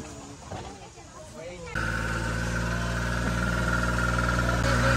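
Zoo safari tram resembling a tractor idling, a low steady engine drone that starts abruptly and holds at an even level, preceded by people talking nearby.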